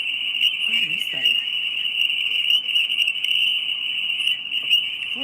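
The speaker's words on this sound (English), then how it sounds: "It sounds like crickets." A steady high-pitched chirping tone, like crickets, persists through a live stream as unwanted interference, running continuously and fairly loud beneath a brief moment of speech.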